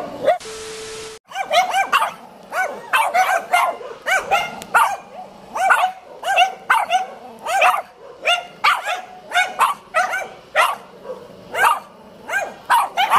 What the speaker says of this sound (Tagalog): Ang lilit ng mga aso pero ang tatapang.